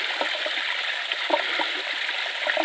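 Water rushing steadily at a micro hydro intake, a constant broadband hiss with small gurgles and splashes, close and continuous with no voices.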